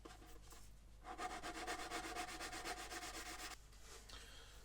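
Steady back-and-forth rubbing of sandpaper on the plastic hull of a Revell 1/144 Flower Class corvette model, a close, rhythmic scratchy stroke running for about two and a half seconds between quieter moments.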